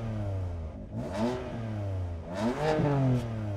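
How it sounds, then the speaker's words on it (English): A BMW M4 engine blips twice, revving up sharply and falling back to a rumbling idle between bursts, loud and close with no talking. "give the M4 some revs."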